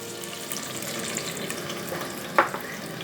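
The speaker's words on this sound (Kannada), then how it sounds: "ಎಣ್ಣೆ ಸ್ವಲ್ಪ ಕಾದ ನಂತರ ಈರುಳ್ಳಿಯನ್ನು ಹಾಕ್ತಾ ಇದ್ದೀನಿ" Onions fry in hot oil inside a five-litre pressure cooker for palak rice, a soft steady sizzle with one brief clatter near the end, no voices.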